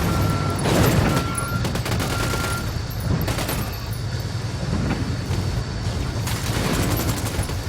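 Sustained gunfire rips into an escort vehicle in Ghost Recon Wildlands, repeated loud automatic bursts over a rumbling engine, with the shooting swelling and easing across several seconds.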